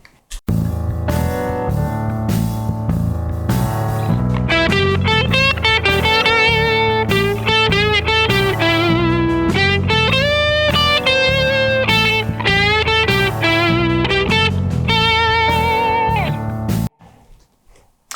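Electric guitar with distortion effects plays minor-flavored blues licks over an eight-bar blues progression in the BB box shape; the phrases are loud, continuous and sustained, with no talking, and stop abruptly near the end.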